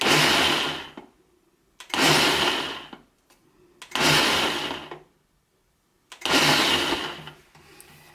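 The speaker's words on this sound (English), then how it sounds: "Then I go ahead and just blend it for the minute." A blender whirs in four loud pulses of about a second each, chopping sea moss, separated by brief pauses with near silence.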